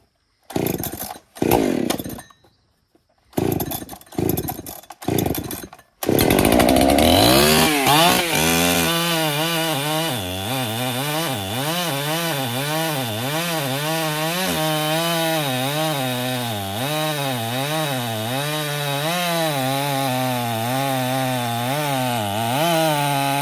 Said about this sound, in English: Take your chainsaw.